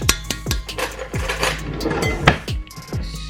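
Ceramic mixing bowls clink and knock against each other and a kitchen counter while being swapped around, a quick series of sharp clatters and rattles.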